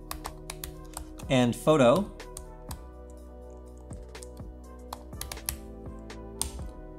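Light clicking keystrokes on a computer keyboard as a command is typed, scattered taps at close range, with a short burst of speech near the start.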